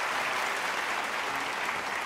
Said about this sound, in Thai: ขอเสียงปรบมือดังๆให้กับคุณแตงโมครับ